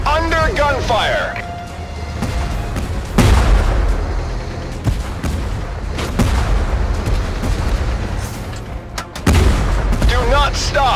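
Gunfire and artillery booms from the tank combat video game Tank Force, with repeated heavy blasts and crackling shots over a dense, continuous battle din.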